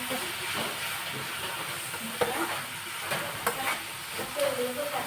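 Small prawns frying in a pan, a continuous hissing sizzle with scattered stirring scrapes and a few knocks, with faint background sounds and no clear speech.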